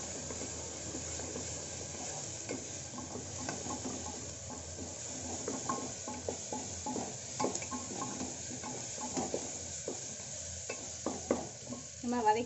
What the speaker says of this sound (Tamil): ஃப்ரை பண்ணிவிட்டு வெள்ளைப்பூடு இஞ்சி பூண்டு போட்டுக்கலாம்